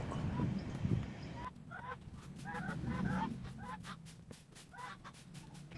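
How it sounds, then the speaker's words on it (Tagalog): Two pet geese in a backyard honk in a rapid, repeated series of nasal calls over low rustling background noise, with no talk. "alaga kong dalawang ganso."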